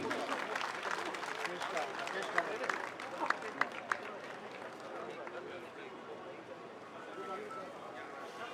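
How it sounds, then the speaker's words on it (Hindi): An audience at a joint party workers' convention in Rohtak claps steadily to welcome leaders onto the stage, a dense, sustained wash of many hands with a few sharper claps standing out, crowd voices mixed underneath throughout. "आप तालियां बजा के स्वागत कीजिए।"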